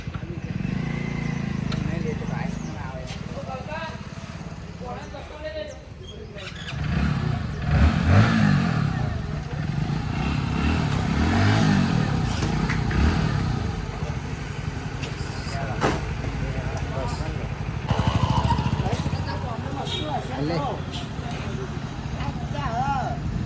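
A new motorcycle's engine idles and revs in swells nearby at a dealership while people talk over it, with some clatter in the background.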